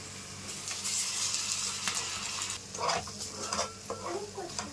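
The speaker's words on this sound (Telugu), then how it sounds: "అల్లం వెల్లుల్లి పేస్ట్ కూడా బాగా వేగి ఆయిల్ బయటికి రావాలండి, అంతవరకు సిమ్లో పెట్టి వేయించుకుందాం" Ginger garlic paste fries with onions in oil in a pan on low heat, giving a steady close sizzle broken by scraping stirs and light clinks of a utensil against the pan.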